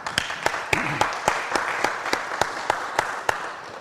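Warm applause from an audience, a soft continuous patter of many hands with a few louder claps punctuating it at regular intervals, moderately near, without speech over it.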